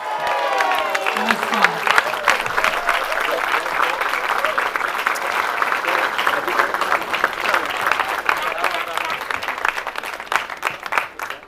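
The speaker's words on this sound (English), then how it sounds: "A big cheer for her, please." A large crowd in Paris applauds and cheers loudly and steadily for Jyoti, the Indian women's 100 metres hurdler who qualified for the Olympics, with dense clapping that runs throughout and a voice that briefly rises over the start.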